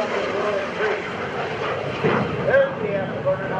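A roaring jet engine with afterburner rumbles steadily at an air show, loud and sustained, with broadband noise swelling slightly near the end.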